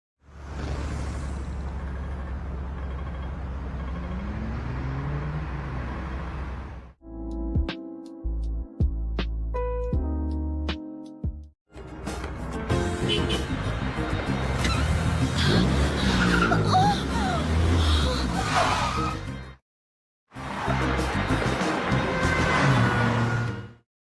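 Road traffic with car engines and a sharp braking skid, a steady motor drone first, then a dramatic musical stab and whooshing tire squeal, followed by loud continuous engine and street noise that cuts out briefly near the end.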